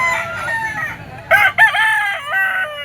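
A rooster crows loudly and near at a pet market, one strong drawn-out call with other fowl calling faintly around it.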